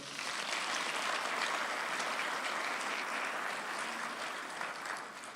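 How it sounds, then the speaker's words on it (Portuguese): A church congregation at a Christian community service applauds steadily, a dense wash of many hands clapping together for several seconds without pause, fading slightly at the end. "Dá mais um aplauso, igreja."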